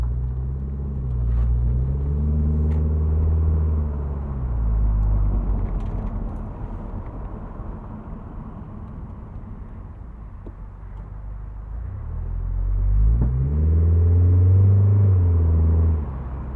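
A 2008 Mitsubishi Eclipse Spyder convertible with a four-speed automatic drives through city streets, its engine rising through two long swelling pulls with a quieter low rumble between them, heard from inside the cabin with no talking.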